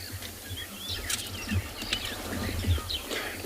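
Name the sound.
birds calling at dawn in South African bush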